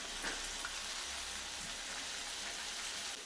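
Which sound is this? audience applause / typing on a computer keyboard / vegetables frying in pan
vegetables frying in pan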